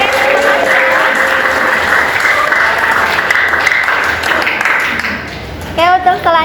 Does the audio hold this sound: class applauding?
yes